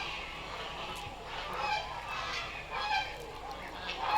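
Ducks and geese at a zoo honking and quacking steadily at a moderate distance, a continuous chorus of waterfowl over faint background noise.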